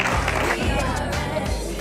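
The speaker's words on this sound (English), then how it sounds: "Round of applause, please." Audience applause at an evening awards ceremony in Marbella, a steady dense wash of clapping from a crowd throughout, close and loud.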